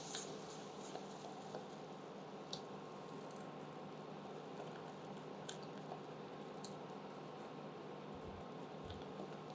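Hot caramel sauce for popcorn, foaming with baking soda, salt and vanilla, is mixed in a pot, giving a steady soft wet squishing and bubbling texture with a few faint clicks, fairly quiet and without talk.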